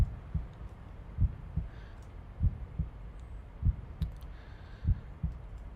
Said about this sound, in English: These are the heartbeats you hear whenever there's only one way out